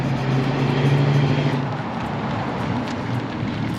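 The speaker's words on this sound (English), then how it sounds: "Number 10, 1971, AMC Javelin AMX 401." A 1971 AMC Javelin AMX muscle car with its 401 V8 runs in a loud, steady engine drone with a low humming note that eases slightly after the first second and a half, with no voices.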